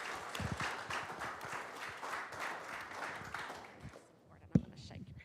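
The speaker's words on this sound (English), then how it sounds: "let's give her a great big round of applause for that accomplishment" Audience at a county board meeting clapping for a student's top-GPA award, a moderate patter of hands that tapers off, then a sharp single knock and brief voices at the end.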